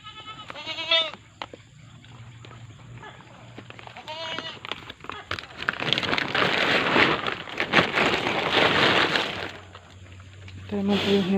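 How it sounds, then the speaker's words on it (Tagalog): A goat bleats several times close by, with a burst of noisy rustling in the middle and another bleat at the end. "Yan po yung ating alagang kambing."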